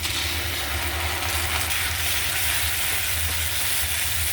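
Onions sizzling steadily in hot oil with ginger-garlic paste, a continuous loud hiss with occasional stirring, no voices.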